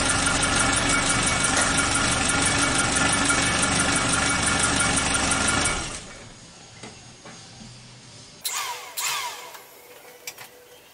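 A Suzuki Katana car engine idles, newly fitted with a breather plate gasket, with a steady, even hum and a light mechanical rattle. After about six seconds it suddenly falls much quieter, leaving faint clicks and a few brief knocks.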